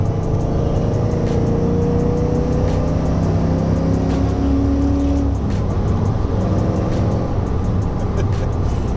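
A Ford Mustang Foxbody engine drones loud and steady from inside the car while cruising past a logging truck, its pitch rising as the revs climb, with rhythmic road ticks underneath.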